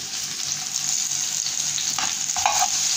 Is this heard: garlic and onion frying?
yes